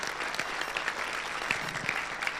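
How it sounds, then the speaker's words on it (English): Sustained applause from a conference audience on the firearms directive in Malta, a steady wash of many hands clapping at moderate distance. "So we should give a big, big applause to these people who made it happen"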